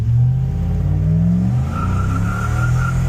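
Stock 5.7 HEMI Ram truck fitted with an Edelbrock supercharger and nitrous pulls hard under acceleration, a loud, steady engine roar with rising harmonics and a faint tire-squeal edge over three seconds, no voices.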